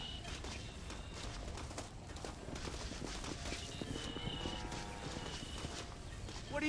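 Horse hooves clip-clopping in the video game Red Dead Redemption after mounting, a quick rhythmic run of hoofbeats with an occasional whinny, over game ambience and background sounds.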